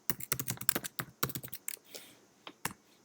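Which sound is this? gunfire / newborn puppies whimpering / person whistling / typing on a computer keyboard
typing on a computer keyboard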